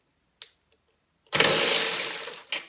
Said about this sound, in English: So I'm gonna try to take off this bolt